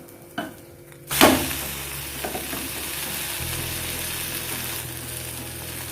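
Cheese egg omelette sizzling in a hot pan as it is flipped, a sharp burst of frying hiss at the turn settling into a steady loud sizzle.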